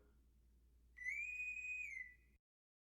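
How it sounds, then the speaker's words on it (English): A single high, pure whistle blast used as a train-whistle sound effect holds steady for about a second over a faint low hum, then cuts off sharply into silence. "Play the train whistle."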